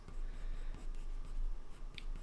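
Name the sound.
coloured pencil drawing on paper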